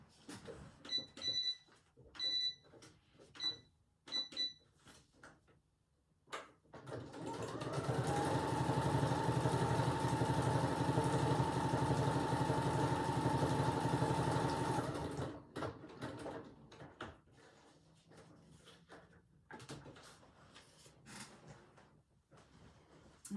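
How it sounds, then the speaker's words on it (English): A sewing machine stitches quickly across the pages of a handmade junk journal. It makes a steady, loud whirring run of about eight seconds, with scattered clicks and handling rustles before and after. "do you mind if I hop on the sewing machine and just whiz across there?"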